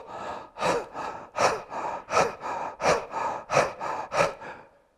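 A person doing a chakra breathing exercise with forceful exhales: about ten rhythmic, breathy bursts, close and loud, alternating sharp snorting exhales with quicker inhales, then stopping.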